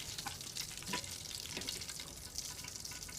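Curry leaves fry in hot oil as a garnish for Kerala quail fry, giving a faint, continuous crackling sizzle with soft bursts of spitting and no voices.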